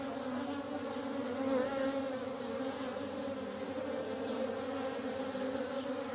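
Honeybees buzz around a small beehive in early spring, a dense, steady hum of many insects close by that holds at an even level throughout, with no voices.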